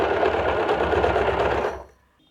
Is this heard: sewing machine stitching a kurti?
yes